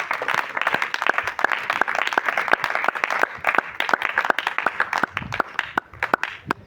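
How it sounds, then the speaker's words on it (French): A church congregation at a thanksgiving service breaks into sustained applause, dense overlapping claps going on steadily throughout at close range, with a faint voice in the background. "Acclame Jésus très fort"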